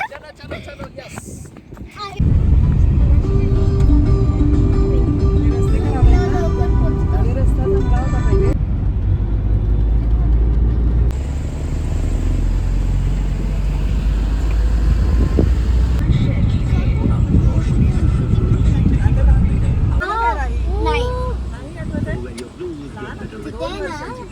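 A car drives along a road on a family trip near Hadshi Temple in Pune, its engine and road noise a steady, fairly loud rumble for most of the stretch while several people talk and call out over it.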